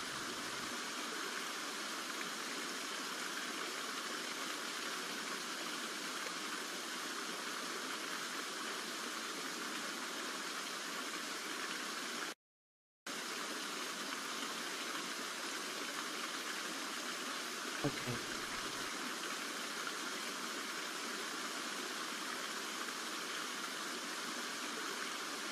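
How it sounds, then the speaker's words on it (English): Steady broadband rush of running water, likely a fountain or tap left on in a meditation room, continuous and fairly loud for the whole stretch with one brief cut to silence midway. "let me know if that water is too loud, please."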